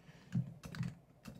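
Keys tapped on a computer keyboard, three soft close clicks spaced out over a moment, quiet and alone.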